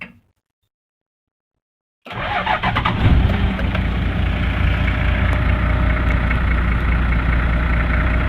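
After a couple of seconds of silence, a Toyota Landcruiser with over 500,000 kilometres cranks and catches, then settles into a steady, close idle with a rough, clattering mechanical texture that runs on alone.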